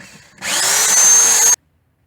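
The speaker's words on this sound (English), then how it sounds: "drill the 4 bolt holes" A power drill bores bolt holes into a cabinet panel, starting abruptly and whirring steadily and loudly for about a second before cutting off sharply into silence.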